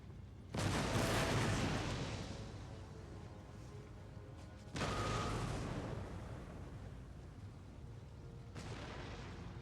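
Two loud booming volleys of musket fire and canister shot artillery from a battle in Empire Total War, each a sudden blast trailing into rumbling decay, with a third softer burst at the end.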